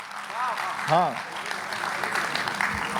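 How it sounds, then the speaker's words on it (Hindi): A Hindi comedy poetry gathering audience breaks into applause over a steady crowd wash, with a host's voice cutting in briefly near the start while the clapping continues underneath. "हरियाणा से सुंदर कटारिया जी के लिए जोरदार तालियां बजा दो भाई।"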